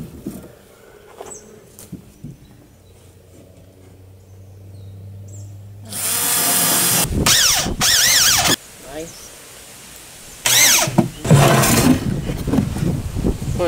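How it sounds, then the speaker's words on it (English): Power drill boring two pilot holes in wood for a brace on a DIY black soldier fly larva composter: two loud whirring bursts close by, the first about two seconds long and the second shorter, with quiet handling noise before and between. "Drill our two pilot holes."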